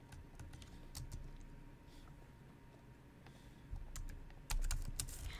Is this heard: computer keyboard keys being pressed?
yes